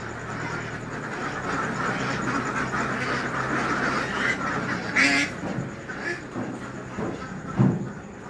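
Ducks on a Philippine laying-duck farm with about 2,000 birds, a dense continuous chorus of quacking filling the scene, with a few louder nearby calls breaking through near the end.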